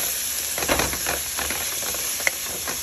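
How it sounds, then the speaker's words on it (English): Ground beef sizzles in a pot while being stirred, a steady close frying hiss with soft scraping stir strokes and one brief sharp clink, no talking. "Just stir it. Stir it for about a minute."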